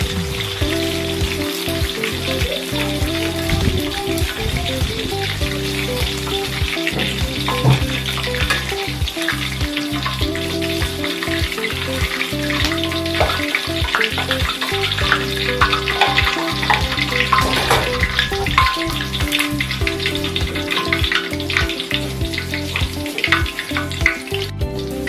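Potatoes frying in oil that was first used for turmeric chicken, a loud, dense, continuous sizzle and crackle held for the whole stretch, close up and with no talking.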